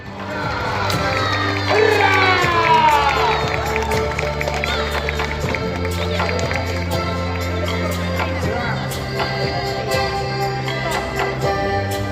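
Busy outdoor crowd at the Merchant City Festival in Glasgow, a steady murmur of many voices with shouts and street bustle, while someone speaks over it close by.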